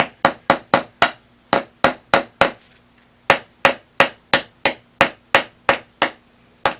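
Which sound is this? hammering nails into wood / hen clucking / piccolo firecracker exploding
hammering nails into wood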